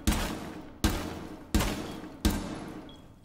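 Four single gunshots fired into a wall in Rainbow Six Siege on the Kafe map's bar area, evenly spaced and loud, each with a sharp attack and a lingering decaying tail, no talking.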